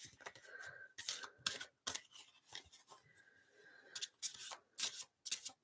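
A deck of animal cards being shuffled by hand in bursts of riffling and rubbing, close and fairly quiet, separated by short pauses.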